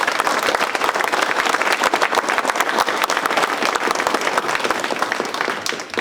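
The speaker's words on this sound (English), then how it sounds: "So can you guys give my parents a round of applause?" Enthusiastic crowd applause at a fan dinner honoring a speaker's parents, loud, dense clapping from many hands, continuous and even throughout, fading slightly at the very end.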